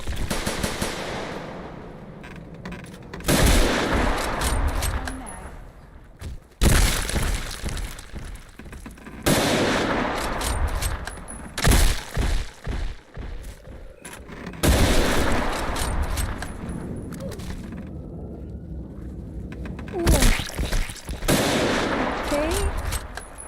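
Rapid automatic gunfire from a video game comes in long loud bursts separated by short pauses, with occasional impact and breaking sounds and a voice talking between volleys.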